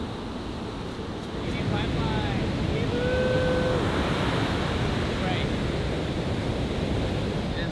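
Big ocean surf breaking at a bodyboarding spot, a steady heavy wash of crashing waves with wind buffeting the microphone throughout, growing slightly louder after the first moments.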